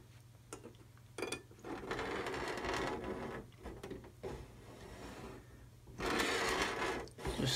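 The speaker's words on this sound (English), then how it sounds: "then we can use the saw to follow in our cut lines, easier pushing than pulling" A hand saw pushing through the hull of a 1/200 scale model Titanic, following marked cut lines; repeated rasping strokes with short pauses between them, close and fairly loud against a steady low hum.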